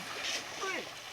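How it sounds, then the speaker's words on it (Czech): People splash water by hand while playing in a swimming spot, giving a quick burst of splattering and sloshing that lasts about a second, with voices mixed in. "cákáte tu vodu"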